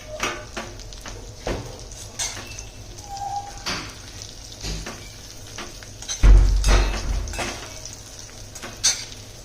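Stuffed green chillies being stirred with dry masala in a pan, with scattered scraping and clinking strokes of a spoon against metal, moderately close, and one heavier knock near the end.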